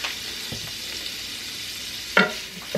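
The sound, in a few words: vegetables and kielbasa sausage stir frying in a pan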